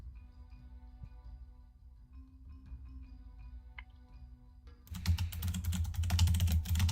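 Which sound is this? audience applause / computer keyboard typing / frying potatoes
computer keyboard typing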